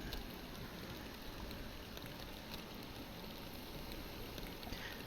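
Rain falls steadily on Saint Croix Lake, Michigan, in the Fishing Planet game, a faint, even, continuous hiss with no other sounds over it.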